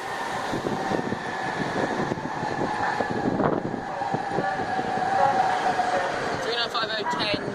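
A Southeastern Class 395 high-speed train, unit 395010, arrives at platform 2 of Stratford International bound for St Pancras, a steady rising rumble and whine of the approaching train with wind noise and brief chimes near the end.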